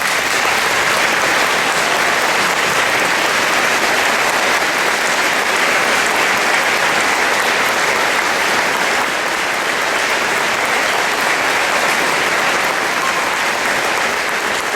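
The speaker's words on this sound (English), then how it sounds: "we'd like to give you a round of applause" Audience at a Veterans Day gathering applauding family and friends of a support group: dense, sustained clapping from a large crowd, steady and loud throughout with no voices on top.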